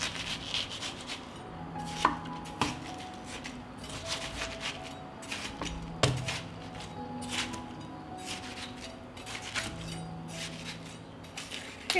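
A knife cuts through watermelon and cleans the red flesh from the rind, giving soft, irregular chopping and scraping taps close by on a board, with no talking.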